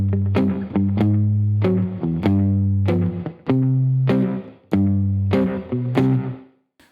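Guitar playing a blues turnaround, with twangy, slightly effected chords and single notes in a slow, halting rhythm, each phrase ringing out before the next, alone without talk.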